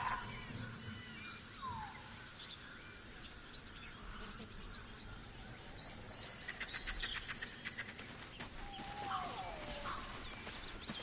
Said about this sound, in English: I'm afraid you'll have to content yourself with vagrant chickens.